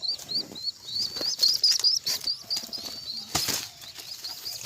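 Pigeon wings flap in quick bursts close by, mixed with high chirps and soft cooing from birds nearby.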